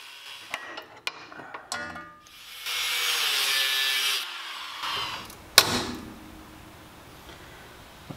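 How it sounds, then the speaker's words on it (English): A few sharp metallic knocks, then an angle grinder with a cutoff wheel whines through a harsh cut into rivets on a 1985 Pontiac Fiero for a couple of seconds and winds down, followed by a single clank. "I decided to just use my angle grinder with a cutoff wheel to take care of them."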